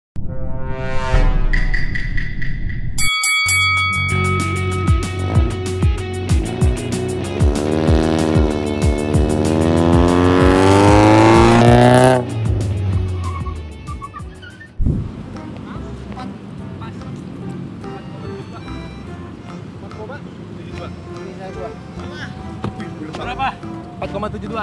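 Two Mitsubishi Lancer EX 2.0 sedans, one modified and one stock, drag racing: engines roar loudly and climb through rising revs with gear changes, then fade and drop away to wind noise and distant rumble.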